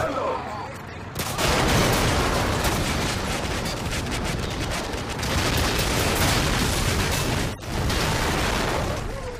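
Gunfire in a military shooter video game, with dense, loud sustained bursts of heavy weapon fire and explosive rumble. A brief gap near the end breaks the barrage, and voices speak over it.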